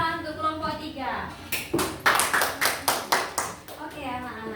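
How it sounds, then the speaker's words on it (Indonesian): A classroom of children claps in a quick rhythmic burst of about a dozen sharp, evenly spaced claps, with a teacher's voice and children's talk before and after. "Beri tepuk tangan untuk kelompok 3."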